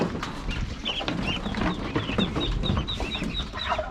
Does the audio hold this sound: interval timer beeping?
no